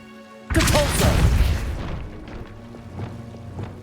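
A Depulso force spell cast in Hogwarts Legacy, a single heavy booming impact that bursts out loudly and then decays into rumbling debris and softer thuds.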